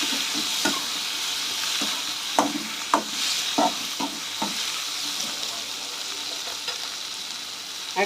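Tomatoes frying with onions in a pan for vegetable semiya, with a constant close sizzle broken by repeated spatula knocks and scrapes against the pan.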